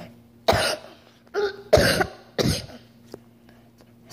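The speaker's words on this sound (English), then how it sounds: "I am coughing." Several sharp coughs, about four bursts in a few seconds, close and fairly loud in a quiet room with a faint steady hum beneath.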